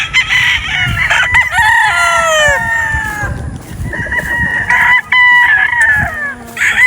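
Several gamefowl roosters crow in long, loud overlapping calls, one after another, with wind rumbling underneath.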